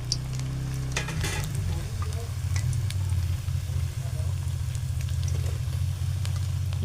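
Bread pakoda frying in hot oil in a pan, stirred, makes a loud continuous sizzle and bubbling crackle with scattered utensil clinks near the start.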